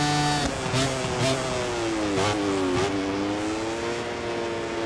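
Racing motorcycle engine in MotoGP 24, loud and close, revving up and down through several gear changes with a high, whining tone.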